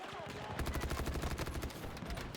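Rapid bursts of automatic gunfire and shots in a Battlefield 2042 battle, loud and dense with repeated cracks through the whole stretch, under a steady roar of combat.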